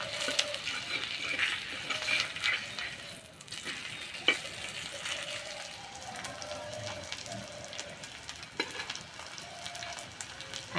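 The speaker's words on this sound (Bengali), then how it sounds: "আর একটু সময় ধরে আস্তে আস্তে ভেজে নেব, তাহলে ভেতর পর্যন্ত খুব সুন্দর ভাজা হবে।" Food frying slowly in oil in a pan after being toasted on both sides, a soft, steady sizzle with occasional light clinks of a utensil, close and fairly quiet.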